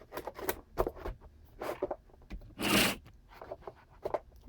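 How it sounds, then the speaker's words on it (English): Magnetic top loaders holding Star Wars Chrome Legacy trading cards are shuffled and handled close by, giving soft irregular clacks, rustles and snaps, with one louder scraping burst in the middle. "the top loader magnetic shuffling noises aren't too loud in your ear"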